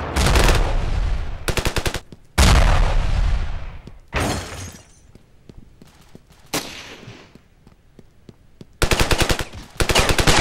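Ravenfield video game gunfire: loud, close bursts of rapid automatic fire alternate with single shots, crashes and decaying booms, separated by short quiet gaps.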